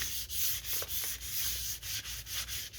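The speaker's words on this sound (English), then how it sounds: "I started sanding already. What I have here is some 600 grit" Rhythmic, scratchy rubbing of fine 600-grit sandpaper on leather, back-and-forth strokes repeating steadily and close up with no voices.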